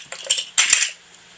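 Metal teaspoon clinking against a glass pitcher or container while imitation almond extract is measured into a gallon of hot sweet tea; two short bright clattering bursts, close and alone, then quiet.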